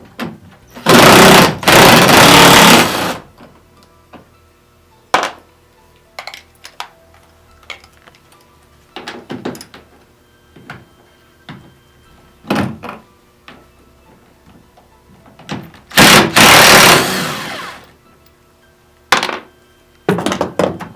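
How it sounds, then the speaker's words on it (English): A power driver with a T40 bit and 13mm socket removing rear strut hardware gives two loud bursts of whirring, a few seconds each, spaced apart by sharp clicks and clunks of parts being handled. "Now we're going to use a T40 bit and a 13mm socket and remove our"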